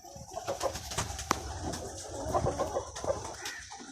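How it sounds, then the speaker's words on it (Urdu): Pigeons and chickens kept in pens on a farm make a busy mix of soft coos and occasional clucks, with scattered sharp knocks over a constant yard background and no talking. "پرندے رکھے ہوئے ہیں،"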